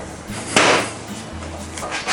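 Mallet tapping the bar end of a motorcycle handlebar during a handlebar swap on a Kawasaki Versys 650, one sharp knock standing out over a low background hum.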